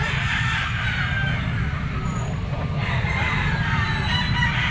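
A three-year-old white Kelso Henny gamefowl rooster with a straight comb and white legs crows faintly at a pet market, partly buried under constant crowd noise and low rumble.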